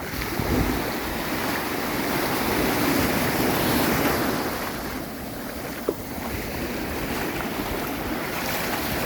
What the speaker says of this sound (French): Et les petites vagues